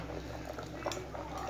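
Kollu paruppu kulambu, a horse gram lentil dish with tamarind and salt, bubbles and simmers in a pot, a steady gentle boiling with small pops, close and continuous.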